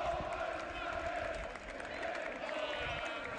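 Football crowd at a Leeds versus Hull City match chanting as a dense, sustained mass of voices. The roar holds steady and loud throughout, with faint clapping in the blend.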